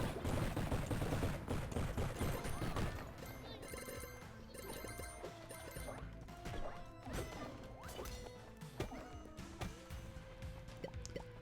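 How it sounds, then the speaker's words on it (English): Bombs going off in the video game UnderMine, clearing out a whole room: a dense run of crashing blasts and clattering debris, loudest at the start, then repeated pops and rattles with game music underneath. "Time to blow up the whole room with this"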